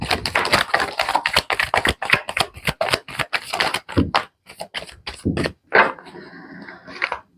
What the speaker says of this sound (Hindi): इतने सारे कार्ड मैं एक बार करूंगी और शायद ये गलती से आए हैं, एक शफल कर लेती हूँ।